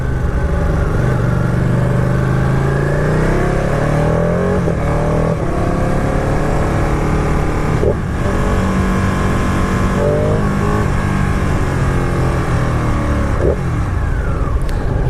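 Ducati 959 Panigale motorcycle engine heard while riding through Cambridge, loud and close, revving up and down through repeated rising and falling gear pulls over steady road and wind rumble.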